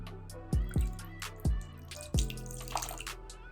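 Water pours in short glugging bursts from a regular plastic water bottle, four distinct gulps close by with small splashes after, fairly quiet.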